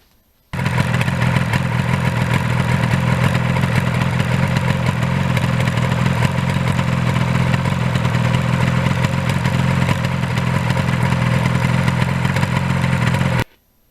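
Kawasaki Ninja motorcycle engine running, a loud, steady close-up drone with rough clattering texture that starts abruptly and holds unbroken for about thirteen seconds before cutting off.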